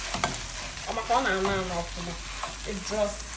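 Ogbono frying and being stirred in a pot, a close sizzle with scraping stirring strokes and a faint voice briefly over it.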